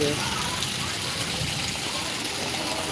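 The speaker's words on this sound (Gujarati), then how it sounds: "એવો વરસાદ પડી ગયો ખંભાની અંદર" Heavy rain in Khambha, Gujarat, pours down in a steady, unbroken roar, with a dense wash of running water close by throughout.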